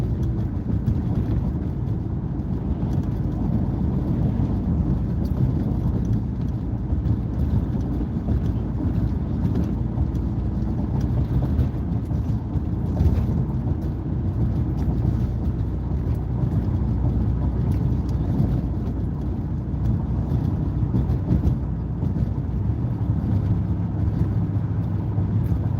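Steady, low engine and road hum of a car on a calm drive, with wind noise buffeting the microphone throughout and no speech.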